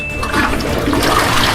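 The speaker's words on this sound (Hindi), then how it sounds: "फ्लश।" A toilet flushes in a bathroom, close and loud, a single steady rush of water lasting a second and a half with no voices.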